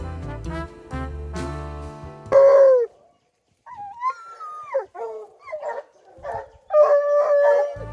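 A deep hunting dog's howl rises from a low rumble, then several baying, yodeling calls from a pack of hunting dogs on a pig hunt follow, loud and close, overlapping in bursts.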